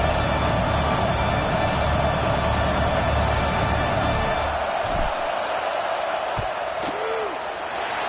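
A stadium crowd roars before a field goal in the college football video game CFB 26, UCLA versus Oregon, a loud continuous wash of noise that thins after a few seconds, leaving scattered claps and thumps.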